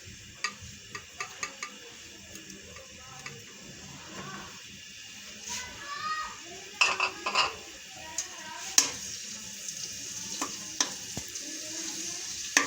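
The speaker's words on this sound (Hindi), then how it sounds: "ऑयल गर्म होने के बाद हमने ये जो अदरक लहसुन का पेस्ट रखा था 1 चम्मच," Ginger garlic paste frying in hot oil, a soft, steady sizzle with scattered clicks and sharp ticks from a spoon or pan, fairly quiet and close.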